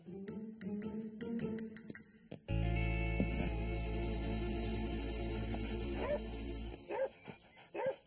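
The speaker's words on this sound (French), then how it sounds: "arrête d'aboyer" A dog yips and barks in a quick, irregular string. A loud, sustained tone then cuts in and drowns out everything else.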